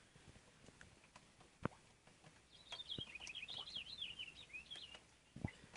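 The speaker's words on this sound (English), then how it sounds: "Singing pretty songs this morning, them birdies" Faint, high twittering birdsong in the distance on a morning, a short warbling phrase over quiet outdoor ambience with a few soft knocks.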